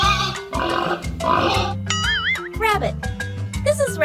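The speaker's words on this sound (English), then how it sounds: "Pig. This is pig." A pig grunts and squeals in a few rough bursts over a steady low drone, followed by a brief warbling tone, with no talking.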